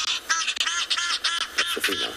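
A played recording of a female hadeda ibis calling, a run of loud, harsh, nasal honking cries in quick repeated bursts, close and clear with no talk over it.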